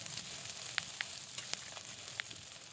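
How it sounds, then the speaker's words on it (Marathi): Chopped onions fry in a little oil in a kadhai, a steady close sizzle with occasional sharp pops and crackles. "तर आता तेलावरती आपण एक चार पाच मिनटासाठी हा कांदा भाजून घेऊया"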